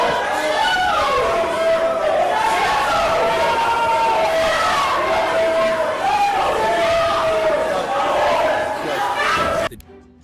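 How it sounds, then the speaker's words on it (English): Supporters in a courtroom gallery shout in protest as a dense crowd of raised voices, loud and continuous, with some voices standing out. It stops abruptly at the end. "a collective outcry erupts from the gallery. Her supporters begin shouting in protest,"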